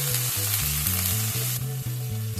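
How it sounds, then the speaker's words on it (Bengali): Potato strips stirred through spiced oil in a pan for a pomfret jhal: a loud, constant frying sizzle close by, with background music playing over it. "মশলার সাথে আলুটাকে কিছুক্ষণ একটু নাড়াচাড়া করে নেব"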